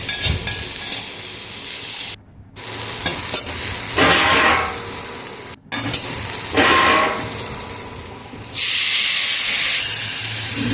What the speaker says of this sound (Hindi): ये देखो गलने तक पक रहा है टमाटर।